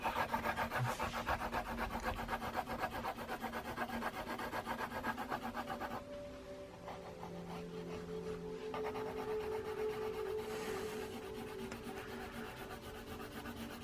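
A broad 2mm pencil hatches across paper in quiet, continuous scratchy rubbing strokes with a fast back-and-forth rhythm, heard close up and faint.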